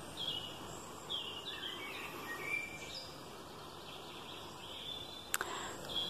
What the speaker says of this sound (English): hoping that you can also hear the bird song